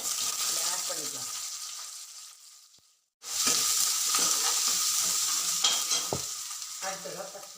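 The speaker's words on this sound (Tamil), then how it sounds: "எண்ணெய் சூடாகிடுச்சு. இப்போ நம்ம வதக்கிறதுக்கு வச்சுருக்க திங்ஸ் எல்லாத்தையும் ஆட் பண்ணிக்கலாம்." Onions, chillies and aromatics for tomato rice sizzle and fry in hot oil while being stirred in a pan, a close, loud crackle that briefly cuts out and then resumes with scraping stirs.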